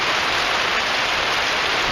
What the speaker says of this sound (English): But look, the sun's out and it's raining.